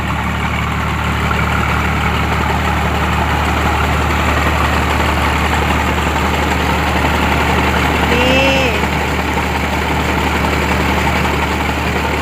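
Engine-driven water pump running steadily in a rice field, a loud continuous low engine drone with constant hum and vibration, close by throughout, with faint voices briefly audible beneath it.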